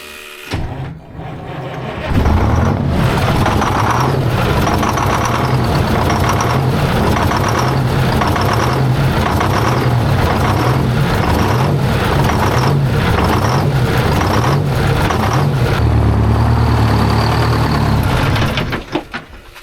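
A straight-piped 8V71 diesel in a 1973 Freightliner cabover fires up after a couple of seconds and settles into a loud, steady, throbbing idle close by, with no talk over it.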